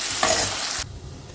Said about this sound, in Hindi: कम आंच पर ही इन आलूओं को नरम होने तक मैं पकाऊंगी।